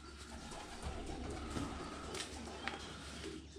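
Soft racing pigeon cooing, low and murmuring, over a steady hum of background noise.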